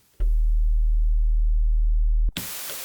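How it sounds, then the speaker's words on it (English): A pure, low sine tone from an Elektron Syntakt synthesizer starts abruptly, holds steady and loud for about two seconds, then cuts off into a burst of bright hiss. "and then mix that with this simple sine wave,"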